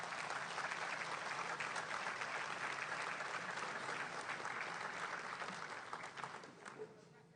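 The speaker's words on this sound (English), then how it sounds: "Big round of applause for Representative Bray." A luncheon crowd at a Chamber of Commerce monthly event claps for Representative Bray receiving an award, a sustained dense burst of applause that holds steady for several seconds before thinning out near the end.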